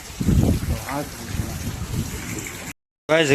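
Strong wind buffets a village during an unseasonal summer rainstorm, a steady low rumble of gusts across the microphone. A voice talks over it before a brief cut to silence.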